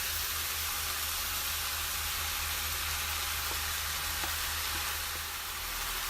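Cooked rice stir-fried in a hot pan for shrimp fried rice gives a steady, dense sizzle with soft scraping stirs, continuous and close, with no voice.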